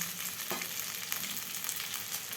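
Pasta sizzles in a frying pan while it is stirred, giving a close, steady crackle with a sharp scrape around the half-second mark and lighter clinks after.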